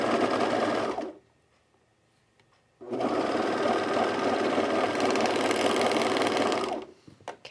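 A sewing machine hums loudly in two runs, a short burst then a longer steady one with a brief silent gap between, stitching the sleeve underarms and side seams of a knit Strathcona Henley shirt.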